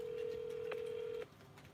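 Keypad tones from a mobile phone being dialed, a steady tone held for just over a second with a brief second beep partway through, then cutting off to quiet room ambience.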